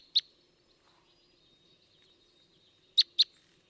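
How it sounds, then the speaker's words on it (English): Type 12 northeastern red crossbill calls: three short, squeaky high chirps, one alone at the start and a close pair near the end, with quiet background in between. "Here's type 12, or northeastern one. Pretty squeaky."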